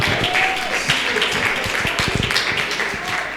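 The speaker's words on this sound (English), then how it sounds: "Round of applause." A burst of applause and clapping with crowd noise at a Soweto business market day, dense and fairly loud throughout, a few sharper claps standing out.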